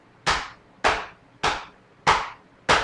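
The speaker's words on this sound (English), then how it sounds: "It ain't the track till you hear that clap, the countdown." Five sharp hand claps fall at an even beat, roughly every 0.6 seconds, each crisp and near with a quick decay, set in a music track with no voices.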